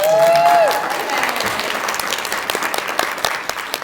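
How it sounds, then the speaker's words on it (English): Sustained audience applause at a book event author panel, a dense wash of many clapping hands that begins under a short vocal tone and holds steady and loud throughout. "Applaud, please."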